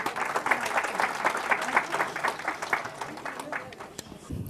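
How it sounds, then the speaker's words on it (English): Audience applause following a community knowledge-sharing presentation: scattered, moderate clapping from a modest crowd, fairly close, with some speech mixed in. "please, can I have a round of applause for them?"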